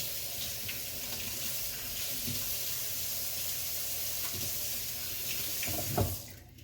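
Running tap water pours steadily over asparagus spears being rinsed in a kitchen sink, a continuous close splashing hiss with a few brief clatters, ending abruptly as the flow stops.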